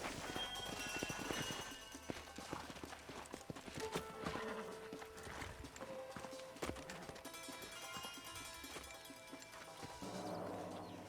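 Horse hooves clip-clop steadily in Red Dead Redemption over a dense bed of game music and ambient noise, the hoofbeats fairly quiet and continuous throughout.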